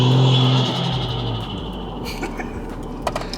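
A car engine under way, starting with a loud low droning rev that drops away into a steadier rumble of driving with road noise and a few small knocks, close and continuous, no clear speech.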